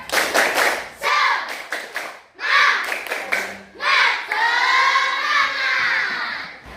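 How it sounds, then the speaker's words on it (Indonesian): A class of schoolchildren claps a rhythmic spirit clap in an Islamic studies lesson, with quick patterned bursts of many hands, brief pauses and a closing flurry, loud and close with some shouting. "kita tepuk semangat dulu. 1, 2, 3, tepuk semangat."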